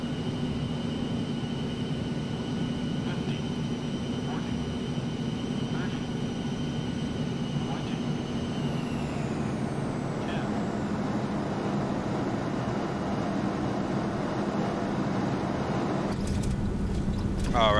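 Airplane landing in the X-Plane 11 flight simulator, with a steady loud engine and airflow drone that holds for the whole stretch and shifts in pitch near the end, with no clear talk.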